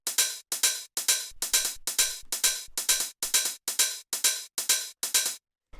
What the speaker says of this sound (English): After that we have these hi-hats which sound like this.